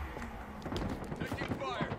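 Gunfire in a Halo Infinite multiplayer match, with a cluster of quick shots and bursts heard under voices talking over the game.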